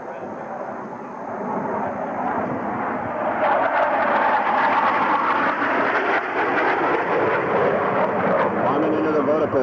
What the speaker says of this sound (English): the power is eased as the aircraft round out the backside of this 5-plane line abreast loop